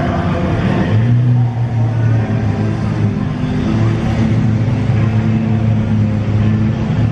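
A new Ford GT supercar runs inside a parking garage during a supercar show, its engine giving a loud, steady, close rumble that holds for the whole stretch, with faint talk underneath.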